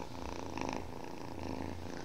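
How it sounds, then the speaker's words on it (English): A cat purrs steadily and close up, a continuous rhythmic rumble that runs unbroken throughout with no other sounds. "cats often purr when they're happy and relaxed"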